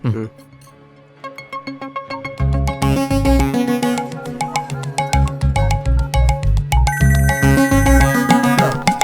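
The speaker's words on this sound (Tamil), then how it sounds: "நான் அப்படியே ஃபோனில் ரிங் டோனை போட்டு" A phone ringtone plays a bright, repeating electronic melody, loud and close, in a comedy scene where a man sets it off on purpose to slip away; a voice is heard alongside it.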